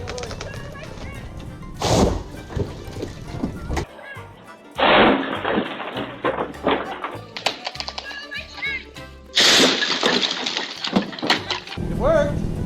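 A cut tree falls and crashes to the ground outdoors, giving several loud, broad crashing bursts spread over several seconds, with quieter rustling and background noise between them.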